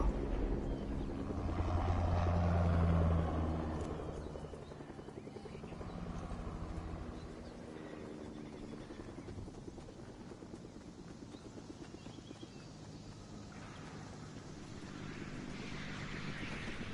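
A helicopter flies in a video game, with a steady rotor whir and engine drone that swells loudest early and then settles into a continuous hum at moderate distance. No talk.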